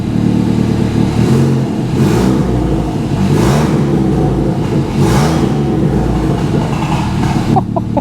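A Ford Fiesta ST180 running with no exhaust fitted revs up several times over its idle. It gives a loud, raw, close engine roar that swells and falls in repeated bursts above a constant low rumble, with a few short clicks near the end.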